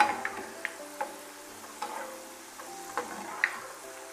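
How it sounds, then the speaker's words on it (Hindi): Boondi batter drops fry in hot oil while being stirred, making a quiet steady sizzle broken by soft clicks and scrapes of a spoon against the pan at irregular intervals. "अब थोड़ा इसको लाइट गोल्डन कलर होने तक हम इसे तलेंगे"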